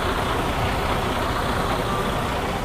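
A 2020 Freightliner Cascadia 113 truck engine runs at a steady idle, a dense, even rumble close by with no talk over it.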